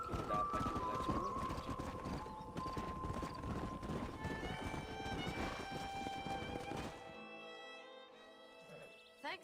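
Horse hooves clip-clop steadily in the Red Dead Redemption video game, a close, rhythmic trot over ambient game music and tones that thin out near the end.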